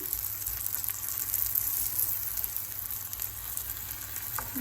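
Bérédjé, a Mahorais dish, frying in a pan as oil is poured over it: a steady, close sizzle and crackle with no talk.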